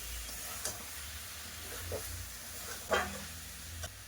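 Vegetables sizzle steadily in a hot pan while being sautéed for a home-cooked curry, with a few scraping clatters as they are stirred.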